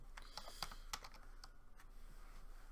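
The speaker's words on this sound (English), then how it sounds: "If I can find my keyboard" Keys clacking on a computer keyboard in a quiet room, a burst of irregular taps and presses, close but soft, with no talking.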